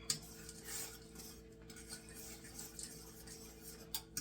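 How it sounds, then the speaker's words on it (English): Leftover Thanksgiving stuffing being stirred into a casserole in a pan, with faint scraping and occasional light clinks of a utensil over a low steady hum. "So you're going to dump in the stuffing. I'm going to stir it."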